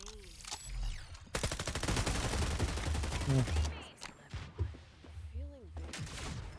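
Gunfire erupts in the shooter game FragPunk: bursts of rapid automatic fire and scattered single shots, loud and close, with a voice speaking in short bursts between volleys.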